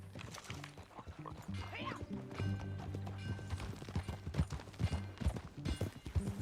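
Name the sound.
horse riding hooves in Red Dead Redemption 2 video game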